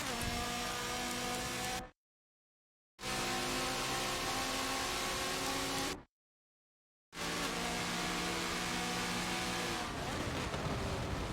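Race cars in a three-way drag race in Forza Motorsport 7, a Nissan GT-R among them, engines roaring steadily at high revs with two abrupt silent gaps.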